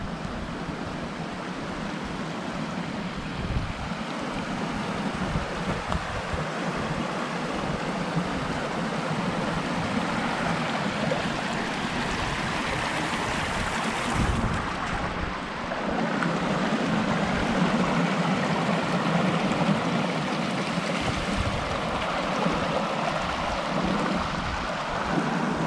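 Stream water rushes steadily over a trail crossing on the Upper Siouxon Trail in Washington's Gifford Pinchot National Forest, a continuous close, even wash of flowing water with no voices.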